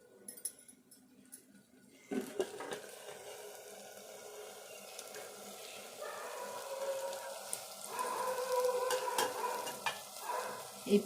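Brinjal curry frying in a pan as it is stirred: a quiet start, then steady sizzling and scraping stirs with occasional light clinks, growing busier toward the end, close and with no voices.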